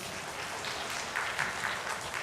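Applause from a church congregation during a sermon, soft and diffuse and fairly distant, a steady wash of clapping with a few brighter bursts toward the end.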